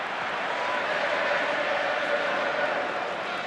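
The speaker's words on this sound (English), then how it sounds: "The Wigan crowd breaking out into good singing mood" Wigan rugby league supporters at a Challenge Cup Final, a dense roar of a large stadium crowd singing and cheering that stays steady and heavy throughout.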